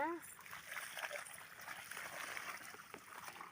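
Water pours from a pipe over a Labrador being bathed, making a steady, close rushing splash that runs throughout. A brief voice is heard at the very start.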